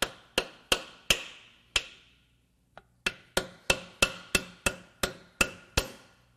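Hammer taps on the aluminum case of a blown Subaru BRZ FA20 boxer engine during teardown, four sharp strikes, a pause, a lone faint tap, then a steady run of about ten close, loud, ringing knocks.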